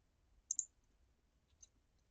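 A computer mouse gives a quick double click, then a softer single click a second later, close and crisp against near silence.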